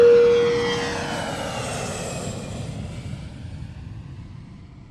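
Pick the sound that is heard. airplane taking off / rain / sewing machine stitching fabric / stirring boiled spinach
airplane taking off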